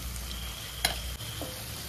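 Pork frying in a pan with turmeric and spices, a steady close sizzle with a brief stir scrape partway through.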